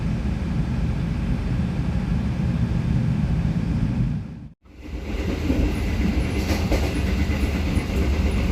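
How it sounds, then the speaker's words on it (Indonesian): Kahuripan passenger train, hauled in vintage PJKA 1980s livery, rolling into a station: a loud continuous rumble of wheels and cars, broken by a brief near-silent gap midway, then the heavy rolling roar resumes. "Kereta api Kahuripan merapat di jalur 1"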